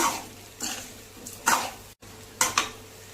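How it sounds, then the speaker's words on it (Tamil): Slices of raw banana are stirred in a kadai over a low flame, with several separate scraping, clattering strokes of a ladle against the pan and a faint sizzle between them. No one speaks. "இப்போ இது நம்ம சிம்மிலேயே வச்சு இப்போ கிளறி விடணுங்க"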